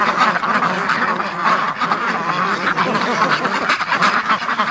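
A flock of ducks quacking loudly and continuously nearby, many overlapping calls forming a busy, chattering chorus with no talking.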